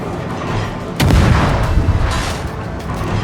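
A game anti-aircraft gun fires a sharp, heavy blast followed by a rumbling, booming tail, loud and close over a steady background din.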